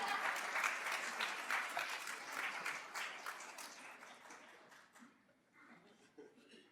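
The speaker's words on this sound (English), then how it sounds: "And a round of applause for Henry, please." Audience applause fills a town hall meeting, a dense wash of clapping that starts strong and gradually thins and fades toward the end, with faint murmuring voices underneath as it dies down.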